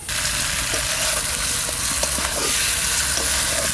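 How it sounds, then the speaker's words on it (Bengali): Magur and koi fish curry with eggs being sautéed in a pan, giving a loud, continuous sizzle with occasional soft stirring scrapes. "এবার একটু কষাবো"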